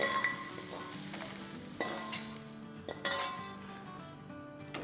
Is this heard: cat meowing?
no